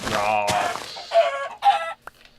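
A chicken in a dinosaur park video game clucks in a few short, loud bursts nearby, the calls separated by brief pauses.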